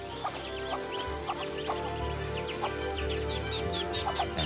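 Muscovy duck chicks and their mother calling at a nest hollow in the Guyana rainforest along the Essequibo: a steady chorus of high peeping over soft clucking and dense jungle background noise.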